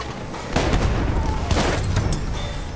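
Shotgun fire in Battlefield 1 inside a bunker, a loud close blast at about half a second and another near one and a half seconds, with rumbling battle noise continuing between them.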